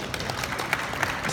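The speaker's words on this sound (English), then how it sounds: "a round of applause please" An audience at a Wacom and Clip Studio Paint art panel gives a short burst of steady, dense applause at moderate volume, with no voices over it.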